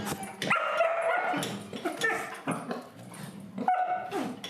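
Farm dogs barking and yipping close by, a run of sharp repeated barks mixed with whimpering yelps, loud and continuous with brief pauses between bursts.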